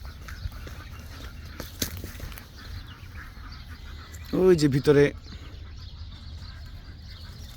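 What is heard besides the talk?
ducks quacking at a duck and chicken farm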